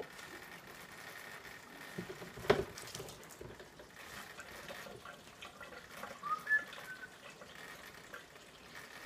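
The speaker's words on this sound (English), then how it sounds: "Now fill it up with, just use pure water." Pure water pours through a funnel into a container, a soft, steady trickle and gush heard close and quiet, with a couple of brief louder splashes.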